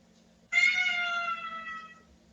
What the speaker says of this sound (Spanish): Mi gata tiene algún problema.